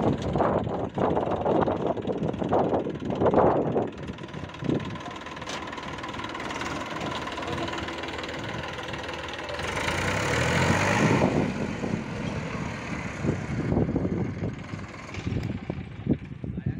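A Massey Ferguson 7250 50 hp tractor engine idles with a low steady chug throughout, while people talk nearby and a brief louder rush of noise swells in the middle.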